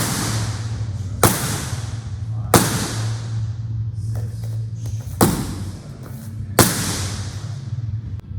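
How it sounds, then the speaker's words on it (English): A baton stick strikes a hard target four times in a defensive training drill, each a loud, sharp crack spaced about one to two seconds apart over a low steady hum. "So right here, I'm hitting with the body of the stick."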